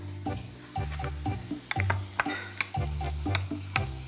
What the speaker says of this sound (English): Mix it up again.